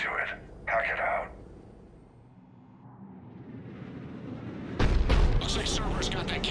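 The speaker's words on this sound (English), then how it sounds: "Looks like Cerberus got that cannon operational" A Cerberus cannon on Tuchanka in the video game Mass Effect 3 fires a loud, booming blast, with rumbling noise before it and people talking around the shot.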